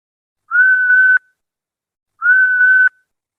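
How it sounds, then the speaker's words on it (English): A boatswain's whistle sounds two shrill, steady blasts, each about two-thirds of a second long, with a brief pause between them and nothing else heard. "pulls out a boatswain's whistle, and blows into it once, then twice"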